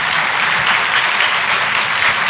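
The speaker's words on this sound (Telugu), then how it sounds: "చప్పట్లు కొట్టడం అన్నది ఇంపార్టెంట్ కాదు" An audience at a church ministry sermon claps together in a dense, even burst of applause that fills the short stretch without a break.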